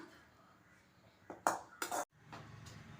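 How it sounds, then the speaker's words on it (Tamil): Roasted ingredients for a Salem thattu vadai set being tipped into a mixer jar, with a few close clinks and knocks of spoon and metal, then a brief rattling pour, over quiet kitchen background. "நம்ம வணக்குனதை மிக்சி ஜாரில் சேர்த்துடலாம்"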